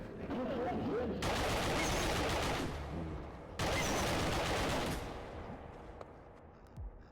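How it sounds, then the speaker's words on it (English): Sustained gunfire in the video game 35MM, two long dense bursts of loud, rapid shooting separated by a short pause, then fading into quieter rumbling and a few faint thuds. "And then I'm going to run around shooting them"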